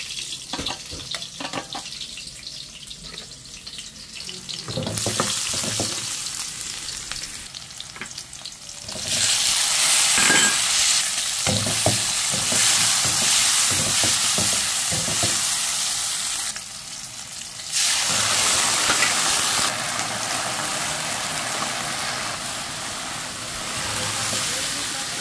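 Broccoli sautéing in a frying pan at home, a loud steady sizzle that surges as the vegetables hit the oil, with stirring clatter and brief bursts of running tap water between stretches of frying.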